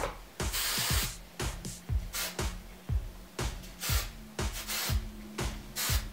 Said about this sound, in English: I like to get right in there with the hairspray in this front part